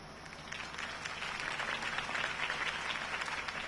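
A crowd at a campaign speech applauds steadily, a dense wash of clapping that swells slightly and holds for a few seconds, fairly distant.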